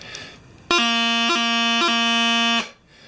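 A single sustained bagpipe chanter note with three quick E grace-note flicks breaking it, loud and close, about two seconds long.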